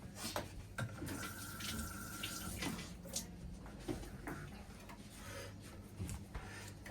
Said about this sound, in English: Wait, let me just rinse my hand.